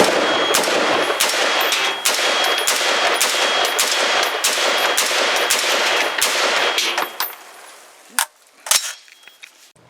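A Brownells BRN-10A rifle firing NATO ammunition at a range: a rapid series of loud, sharp gunshots at an even pace, then two or three last isolated shots after a short pause, with metallic clinks.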